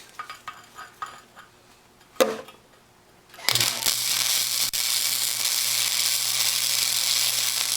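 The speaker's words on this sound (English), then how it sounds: "tack weld at the very back" A tack weld on a steering linkage for a tiller boat motor: quiet tapping and shuffling, then an arc strikes and holds a steady, loud, crackling sizzle for several seconds, with a brief spark burst just before it.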